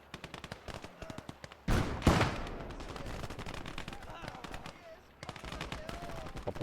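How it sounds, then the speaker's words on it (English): Maxim machine gun firing in the Gates of Hell: Ostfront video game, a rapid rhythmic string of sharp shots alongside a loud nearby blast and rumbling battle noise. "the Maxim is back out"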